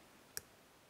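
A single faint, crisp click sounds as a pin sets while a Mako 427 lock is being picked, one brief tick against quiet background hiss.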